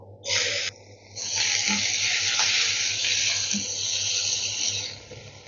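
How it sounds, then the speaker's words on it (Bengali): A large portion of chopped onion hits hot oil while South Indian lemon rice is being cooked. A brief hiss comes first, then a loud, steady sizzle that holds for several seconds with no talking. "এবারে আমি দিয়ে দিচ্ছি একটা বড় সাইজের পেঁয়াজ কুচি।"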